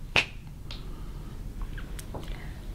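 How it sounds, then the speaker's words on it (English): One crisp finger snap cracks close by during a Ouija board session in a lighthouse, followed by faint small ticks and clicks in a quiet room. "That'll be the kind of thing where I snap my fingers at the point,"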